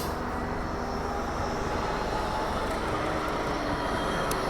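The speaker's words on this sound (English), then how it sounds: "And here comes the tram." A steady, rumbling tram rolls past at close range along the Blackpool seafront, a continuous broadband roar with a low hum that holds throughout.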